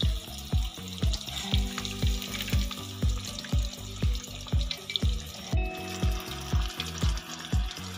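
Steady oil sizzling and crackling from fish chilli frying in a small pan, with a regular series of soft thumps and clinks as it is stirred, no voices.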